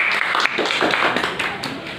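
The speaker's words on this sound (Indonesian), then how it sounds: "Jadi beri tepuk tangan dulu untuk kalian." A class of students applauds together in a classroom, a dense, steady patter of clapping that fills the moment, with faint voices mixed in.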